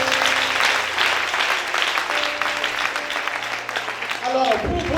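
An audience at a book dedication and author presentation breaks into sustained applause, a dense, steady wash of clapping that carries through the whole stretch with a faint musical hum beneath and a short lull near the end.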